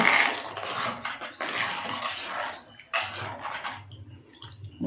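Water poured into a simmering pigeon pea curry in a pot, bursts of splashing and trickling that start and stop in three pours with brief quieter gaps between, close and fairly loud.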